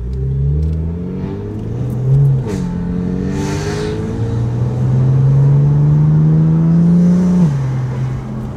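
A BMW F80 M3 engine with catless downpipes and a non-resonated equal-length exhaust revs up and holds a rising, throaty drone from intake and exhaust, dipping briefly before climbing again, loud and close.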